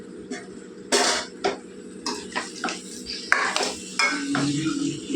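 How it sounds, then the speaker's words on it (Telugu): Fish pieces being stirred with masala in a metal pot, giving scattered scraping and clanking knocks of a utensil against the vessel, fairly close and with no talking. "ముక్కలకి మసాలా తగ్గేలాగా ఒకసారి కలిపేసుకుందాం"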